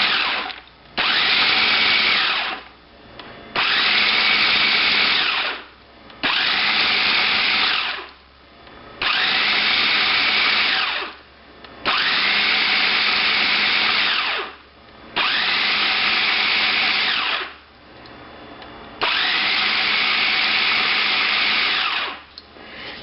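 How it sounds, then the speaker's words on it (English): A food processor pulses a chunky mix of nuts, dates and apricots in eight loud bursts of two to three seconds each. Short pauses separate the bursts, and no one speaks. "we're going to put on the lid, and we're going to pulse it a few more times"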